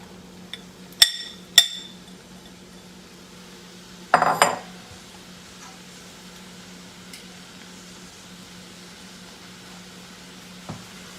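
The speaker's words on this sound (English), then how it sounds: "now we're just going to throw our mushrooms in" Mushrooms tossed into a pan for sautéing: a few sharp clanks and clinks of cookware close by, then a burst of rustling as they land, followed by quiet with one faint knock.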